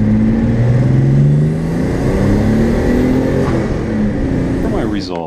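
Car engine revving up under acceleration on a test drive with a boost controller run through Speeduino, a loud rising drone with climbing pitch that dips and builds again as someone talks over it.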